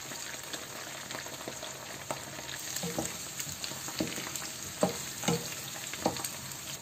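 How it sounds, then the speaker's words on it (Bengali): Garlic frying in a pan for a white meat korma, an even sizzle under repeated soft scraping and tapping as it is stirred slowly, the strokes growing slightly stronger toward the end. "এই যে এটাকে একটু আস্তে আস্তে আমাকে নাড়া দিয়ে দিতে হবে যেন লেগে না যায়।"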